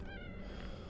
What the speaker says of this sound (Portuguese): Faz barulho de gato a porta